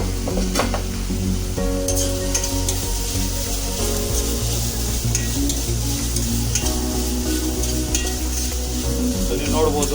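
Chopped tomatoes hit a frying pan of chitranna, a South Indian lemon rice dish, and sizzle steadily, with a constant loud hiss and occasional stirring scrapes.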